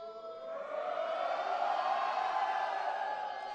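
A high-school basketball crowd roars during a free throw, a sustained faint wash of cheering and shouting that swells after the first half-second and holds steady.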